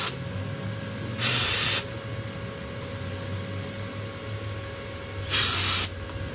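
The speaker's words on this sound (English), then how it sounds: "Good old brake clean is always empty when you need it." Aerosol brake cleaner sprayed in two short bursts under a steady background hum while working on a 2005 Ford Escape, each a loud, close hiss lasting about half a second, separated by several seconds of quiet.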